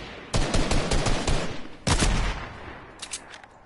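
Rapid bursts of automatic gunfire in Fortnite, loud and close, two long volleys followed by a few short shots, with no talking.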